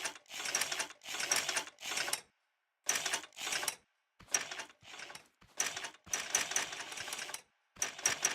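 Weld tool sound effect variations from the video game Scrap Factory, played back one after another as a series of bright, clattering mechanical bursts with short gaps between them and no talk.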